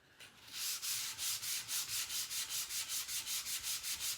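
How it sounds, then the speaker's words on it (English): Steady rhythmic rasping of sandpaper rubbed back and forth on a wooden tray, each stroke distinct, close and fairly quiet. "I'm going to continue off video sanding my tray with this sandpaper"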